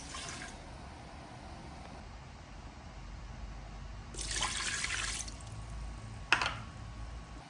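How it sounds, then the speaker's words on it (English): Water poured into the base of an Instant Pot pressure cooker, a few short splashy pours against a quiet kitchen background, with a brief clunk near the end. "always remember to put water into your instant pot as well at the base"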